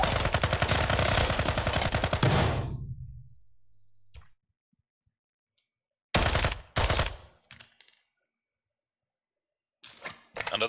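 Gunfire in the tactical shooter video game Ground Branch during a hostage rescue: a loud, sustained rapid-fire automatic burst cuts off abruptly, then after silence come two short bursts and a final brief volley.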